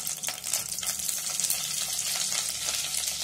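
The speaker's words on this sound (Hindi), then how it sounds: "तेल गरम होते के साथ हम कड़ी पत्ता ऐड करेंगे इसमें, साथ में थोड़ा सा हरा धनिया डालेंगे कटा हुआ" Curry leaves and chopped fresh coriander hitting hot oil for a green prawn curry, a dense crackling sizzle that stays steady and close, with faint stirring.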